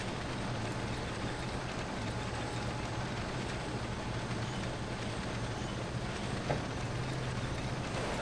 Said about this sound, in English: Gotta love tank charges.